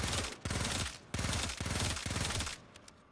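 Rakta Ballistica crossbow regular shots firing in Warframe, four loud, punchy bursts of game gunfire in quick succession with short gaps between them.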